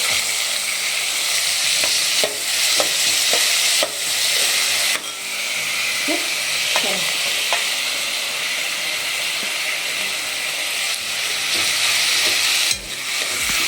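Onion, tomato and beans frying in a pan for vermicelli upma, giving a steady loud sizzle and hiss with frequent sharp scrapes and clicks from stirring.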